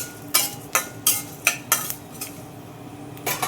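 Jackfruit curry being stirred in a pan, a metal spoon scraping and clinking against the pan in sharp, irregular strokes over a faint frying hiss.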